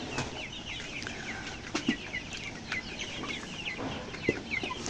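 Chickens on a tiger chicken farm with sand litter cluck and chatter continuously at moderate distance, with scattered sharper calls and a couple of brief wing flaps, and no talk.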